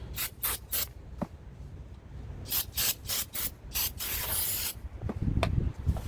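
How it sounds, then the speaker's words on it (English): Brake cleaner sprays onto a car's brake rotor during a Brembo brake swap in short, close, hissing bursts: several quick spurts, a pause, then a longer run of sprays ending in a sustained hiss. "Brake cleaner."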